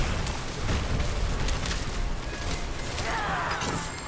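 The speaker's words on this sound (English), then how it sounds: "There's explosion from the big demon." An explosion from a big demon in the Diablo 4 video game, a loud, dense rumbling blast that fills the whole clip with roaring low-end noise and crackling debris, with no talking.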